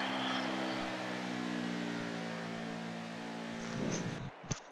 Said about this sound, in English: am just listening to the engines drop like 20 mile an hour going through turn two